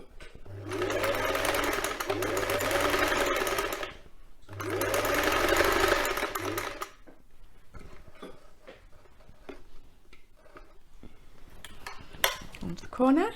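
A domestic sewing machine stitching a quilt cover runs in two loud, steady bursts of rapid whirring, split by a short pause, followed by quieter clicks and handling sounds.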